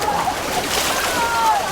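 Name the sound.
boys splashing water while swimming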